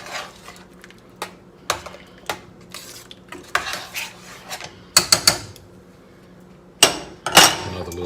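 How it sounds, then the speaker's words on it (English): A utensil stirs food in a pot, giving sharp clinks and scrapes of metal against the cookware, spaced irregularly and growing louder in a few bursts, with no talking. "Give it another little stir up here."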